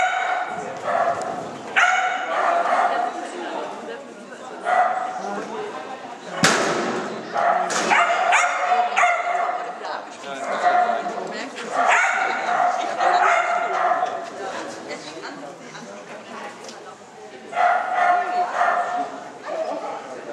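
Dog barking and yipping repeatedly through a busy, noisy scene, with people talking throughout and a sharp slam midway.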